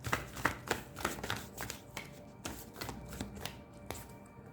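Tarot cards are drawn and handled at close range, giving a quiet series of crisp slaps, flicks and shuffling rustles in an irregular rhythm.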